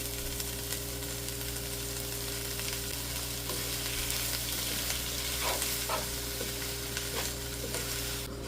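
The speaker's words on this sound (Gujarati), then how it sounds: "સોસ એડ કરી 2 મિનિટ સોટે થવા દઈશું" Yellow and green peppers sizzle in a pan with sauce for vegetarian Pad Thai made with little oil, a steady close frying hiss broken by a few scraping stirs near the end.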